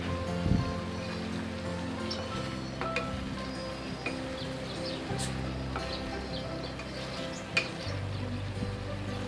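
Cauliflower tipped into a pan of frying winter vegetables, giving a thud and then a continuous quiet sizzle with occasional clinks of stirring, no speech.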